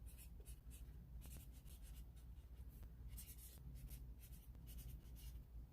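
Pen scratching on paper while writing out a paint colour name, quick close strokes in short bursts with pauses, quiet and alone.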